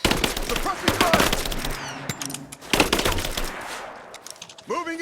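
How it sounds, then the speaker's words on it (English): Gunfire in Rise of the Tomb Raider, a video game: rapid automatic bursts and sharp single shots in a loud firefight, with shouting voices in between. "Give me suppressing fire now!"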